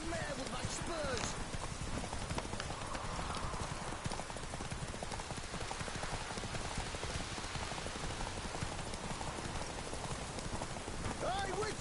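Horse hooves galloping in The Witcher 3, a steady rapid clip-clop throughout over a rain-like hiss, with a voice speaking over it.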